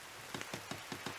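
Steady rain falls in the video game The Forest, a dense hiss of drops with a series of soft rhythmic patters on top, continuous and moderately quiet.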